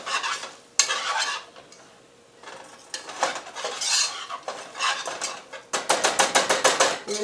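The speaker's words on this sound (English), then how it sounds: "it says stir constantly because you don't want it to burn" Butter and flour roux stirred in a pot, close scraping and clinking of a utensil against metal over a light sizzle, with a rapid burst of rhythmic strokes near the end.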